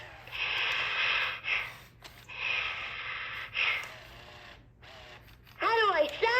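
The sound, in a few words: bear taking a big breath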